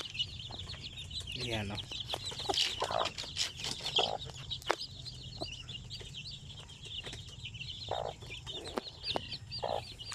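Native Sampen hens cluck and chatter steadily nearby amid a busy farmyard, with scattered bird calls and a brief spoken word.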